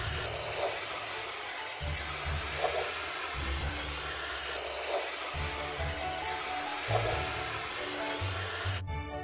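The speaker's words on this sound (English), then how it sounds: "Let's drag the spray gun along the stain to paint it." A steady spray hiss from a paint gun painting over a stain in a video game runs continuously over a looping game music bed, ending abruptly.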